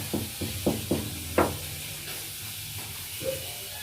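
Fish sizzles in hot oil with a constant faint hiss, broken early by a few soft thumps and clatters from the pan.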